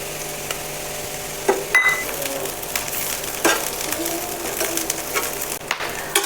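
Dried shrimp (golma) and onion fry together in a pan, giving a soft sizzle with scattered clinks and scraping stirs, close by and without talk.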